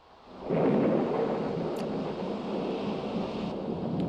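Thunderstorm in the Amerzone adventure game: a deep thunder rumble swells up after half a second and rolls on steadily with rain-like hiss, loud and unbroken to the end.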